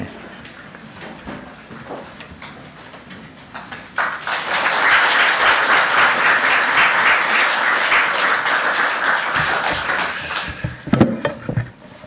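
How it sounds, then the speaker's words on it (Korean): Church congregation during a Sunday worship service bursts into loud, sustained applause welcoming a guest speaker, starting from scattered claps, swelling into a dense roar of many hands, then tapering off to a few final claps. "나오실 때 큰 박수로 우리 환영하는 시간까지입니다"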